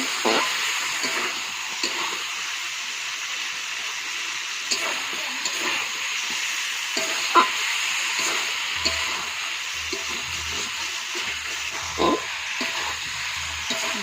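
Chicken sautéing in a pan with ground coriander, cumin and chilli, a steady sizzling fry with occasional stirring scrapes, close and continuous, with no talking.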